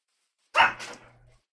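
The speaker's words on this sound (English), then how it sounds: "What are you barking at now, Bella?" A single close bark from Bella, a Minecraft dog, sharp at onset with a short second yelp and quickly fading tail, set against silence.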